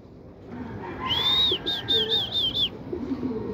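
A racing pigeon arriving at the home loft after a 162 km training race in Pozzorubio, Pangasinan, gives a clear series of soft, rising coos, one long note and then several short repeated ones, over light background noise.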